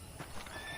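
Horse neighs and clip-clopping hooves sound in the video game Red Dead Redemption, a fairly close whinny mixed with quick hoof steps over a low, steady background, with no voices.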